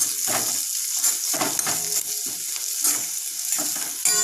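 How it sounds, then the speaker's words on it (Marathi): Onions with a pinch of turmeric sizzle and crackle in a pan for a vada pav potato filling, with repeated scraping stirs cutting through the continuous frying hiss. "आता आपण यामध्ये थोडी चिमूटभर हळद टाकूयात आणि व्यवस्थित परतवून घेऊयात"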